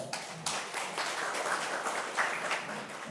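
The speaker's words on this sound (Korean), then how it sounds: "박수 부탁드리겠습니다" An audience at a forum applauds steadily for a few seconds, a dense wash of many hands clapping close by, with no voices over it.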